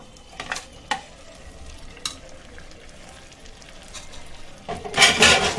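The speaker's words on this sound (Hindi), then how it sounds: "मसाले में गोश्त को अच्छे से भूनेंगे।" Meat fries in masala for a biryani as a spoon stirs it, giving a low sizzle broken by sharp metallic clinks against the pot and a louder burst of frying near the end.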